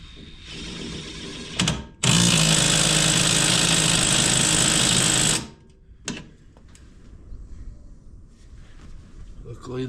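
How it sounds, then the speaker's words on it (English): Loud impact wrench bursts while tightening a brake caliper bolt on a Chevrolet Malibu during a brake job, a short hit followed by a sustained run of about three seconds, then quieter shop noise. "Luckily the top one we can get an impact on, which makes it nice."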